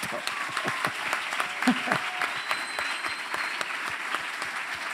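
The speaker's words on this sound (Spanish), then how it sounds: "Vamos a dar un fuerte aplauso a Jesucristo" Audience at a Christian church symposium applauding, a dense steady patter of many hands clapping with a few sharper individual claps standing out, moderately loud and continuous for the whole stretch with no talk over it.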